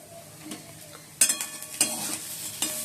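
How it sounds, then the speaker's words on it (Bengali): Small mola fish frying in oil in a pan, a soft continuous sizzle broken by a few sharp clinks and scrapes of a metal spatula, close up with no voices. "এই যে বন্ধুরা মোলা মাছ ভাজছি"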